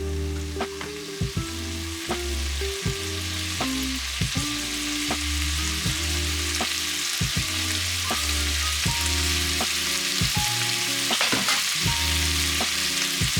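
Mussels sizzle and fry steadily in a pan over high heat, a continuous close crackle broken by occasional scrapes and clacks of stirring, with no voice heard.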